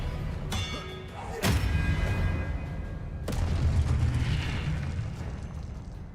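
Spell effects for Expelliarmus and Levioso in the video game Hogwarts Legacy: two sharp magical bursts with booming thuds, each followed by a sustained rumbling wash.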